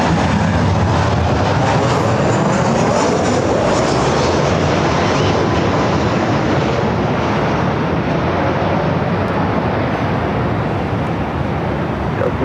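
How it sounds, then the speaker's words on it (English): Airbus A380 jet airliner at LAX, a loud, steady broadband engine roar that holds throughout, close and sustained with no talk. "A380 Super heading here to the north side"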